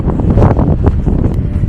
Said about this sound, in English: The wind up here is ridiculous.